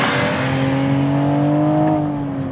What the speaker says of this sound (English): if you love an inline-6 or a 6-cylinder sound